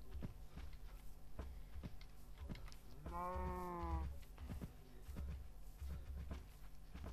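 Cows mooing in the Minecraft video game, one clear drawn-out moo standing out over quiet footsteps and faint game ambience.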